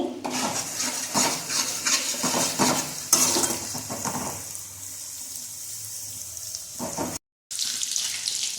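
Vegetables stirred and sizzling in a pan for veg manchurian, a steady close frying hiss with scraping stirs, quieting midway before the sizzle returns after a brief gap.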